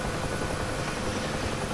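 Bell UH-1H Huey helicopter rotor and turbine engine in the DCS flight simulator, a steady, dense, loud drone with constant rotor thrum filling the whole stretch, with no voices.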